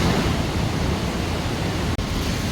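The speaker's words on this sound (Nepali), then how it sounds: "खोला चाहिँ ठुलै छ यहाँ बब्बाल ठुलो खोला रहेछ यता अनि यो झर्ना" A large mountain river and waterfall roar near Lapche in a steady, dense rush of whitewater that fills the whole moment at high volume, broken only by a tiny dropout.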